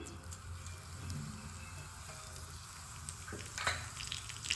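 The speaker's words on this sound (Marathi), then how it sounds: "थोडं तेल घेऊन आता तडका बनवत आहे मी। त्यामध्ये जिरं घालूया।" Cumin seeds sizzling in a little hot oil for a tadka for roasted tomato chutney: a steady, close crackling fry with sharp pops scattered throughout.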